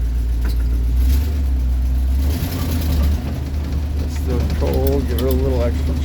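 An International Harvester Travelall engine runs cold on choke with a loud, steady low rumble close by, while someone speaks over it toward the end.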